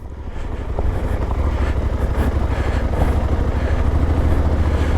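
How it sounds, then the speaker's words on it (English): A Suzuki V-Strom 800 DE motorcycle engine pulling on gravel, a steady loud low-pitched chugging throb that builds over the first second and then holds close and even, with no talking. "the engine's nice because it chugs from down low, so I can just pop it in second"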